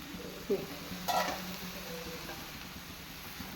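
Dal and drumstick leaf thoran being stirred in a pan, giving soft scraping and light sizzling with a few brief spoon knocks against the pan, heard fairly close and quiet with no talk.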